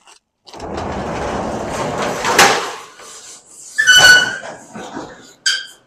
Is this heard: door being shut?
yes